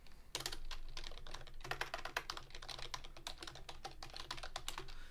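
Rapid, steady keystrokes clatter on a computer keyboard as notes are typed, close and clear with no voices, continuing for about five seconds.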